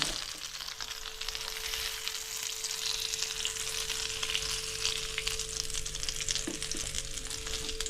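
Barracuda fish pieces fry in a pan of hot oil, making a loud, continuous close-up sizzle and crackle that holds steady from start to end with no talking.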